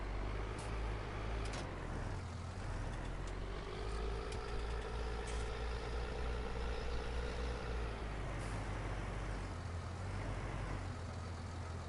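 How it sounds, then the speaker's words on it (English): Tractor engine idling in Farming Simulator 19, a steady low drone with a harmonic hum that rises slightly in pitch midway, then settles back, continuous and close with no talk. "I love the sound of this tractor."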